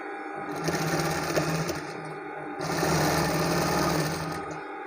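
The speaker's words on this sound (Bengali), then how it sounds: "এই যে আমি সোজা করে এই সাইডে সেলাই করে দিচ্ছি।" A sewing machine runs close and steady, stitching a straight side seam on a shirt in two continuous bursts with a brief slowdown between them.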